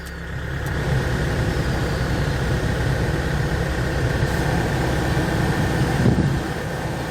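Air conditioning runs in a Kia Bongo 3 diesel food truck with a manual gearbox, a steady broadband blowing whoosh over a low idling engine rumble, constant and fairly loud throughout.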